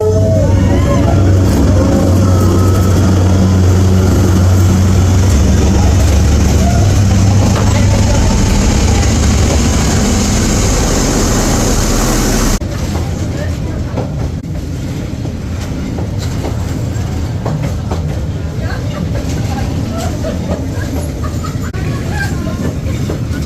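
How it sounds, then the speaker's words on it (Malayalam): A train rumbles past close by on Vietnam's Train Street, a narrow street, loud and continuous with rattling wheels, then the roar cuts down to a quieter rumble as it moves on. "അങ്ങനെ നമ്മളുടെ ട്രെയിൻ നമ്മളുടെ മുമ്പിലൂടെ പോയി"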